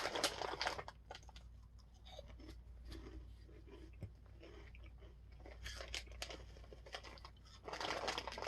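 Baked Cheetos Crunchy cheese curls being crunched and chewed up close, with repeated crisp bites and grinding chews over a low background hum, no talking.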